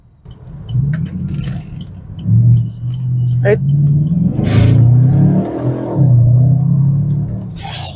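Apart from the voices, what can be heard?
V8 muscle car engine revving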